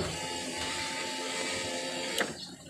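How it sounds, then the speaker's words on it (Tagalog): A car power window motor, wired to a manual switch, runs with a steady, close mechanical whine and hum for a few seconds, then winds down. "gumagana na ating power window"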